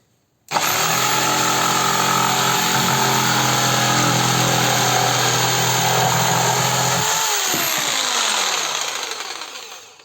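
A RONIX 4111 electric jigsaw set to speed 6 runs loud and steady through a workpiece for about seven seconds, a dense buzzing drone that drops away at the end as the blade winds down.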